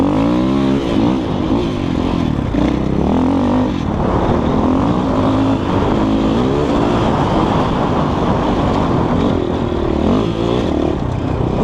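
A KOVI Advance 250 enduro motorcycle revs hard up close, its engine rising and falling through repeated throttle blips and sustained loud drones with no pause.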